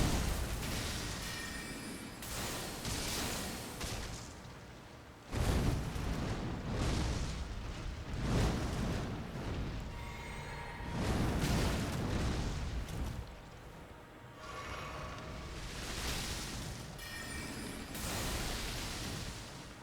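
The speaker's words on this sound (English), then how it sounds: "I know that he's willing to do the big explosion a second time." Loud, repeated explosive booms from an Elden Ring boss fight, several heavy bursts roughly every few seconds with rumbling tails, filling the whole clip without talk.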